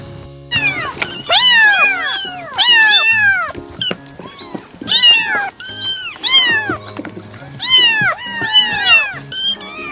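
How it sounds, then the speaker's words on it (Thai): A cat meows repeatedly, loud and close, a series of drawn-out, wavering cries with brief pauses between them. "เด็กๆไปฟังเสียงร้องของน้องแมวกันนะคะ"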